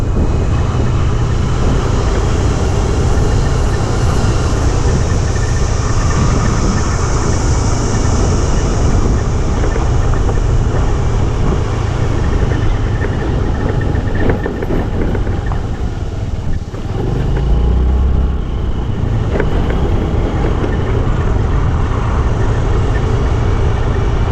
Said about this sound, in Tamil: நல்லா காற்றடிக்குதுங்க